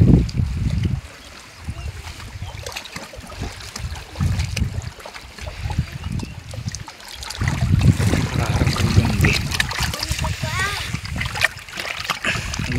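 Water of the Godavari river rushes and splashes at a confluence near an old temple, forming a steady, fairly loud wash with wind noise as people talk over it.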